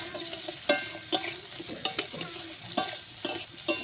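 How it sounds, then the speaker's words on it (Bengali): Spice paste and fried potatoes are stirred in a frying pan, bright metal scrapes and knocks of the spatula repeating every half second or so over a low sizzle, no talk. "দিয়ে ভালো করে নাড়াচাড়া করে দেবো।"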